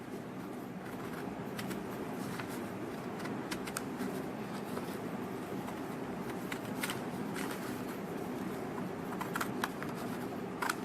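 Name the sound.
scissors cutting a paper semicircle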